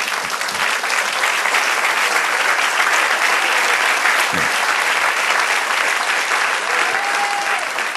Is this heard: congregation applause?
yes